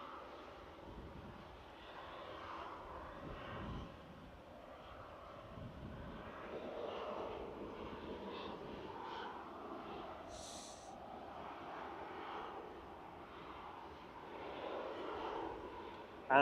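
A distant airliner at Manchester Airport gives a faint, steady engine rumble that holds throughout.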